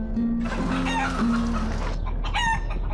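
Chickens in a village yard, with a rooster crowing and hens clucking nearby, loud and close in short bursts.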